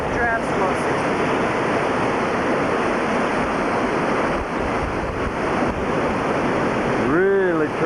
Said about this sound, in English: propellers are 40 feet underwater, and this is what they're doing up here